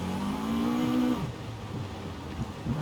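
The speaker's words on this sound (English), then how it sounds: "just slide on the handbrake" A car in Forza Horizon 5 sliding on the handbrake, its engine holding a steady high drone that then drops off into a lower rumble with faint tire noise, loud and close.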